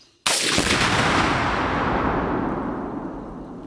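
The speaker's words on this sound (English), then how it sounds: "We've also got some tannerite exploding targets to take care of." A Springfield M1A GI Standard M14-style scoped marksman rifle fires at a tannerite exploding target at a ranch range, one sudden loud blast that booms and rolls away in a long fading rumble.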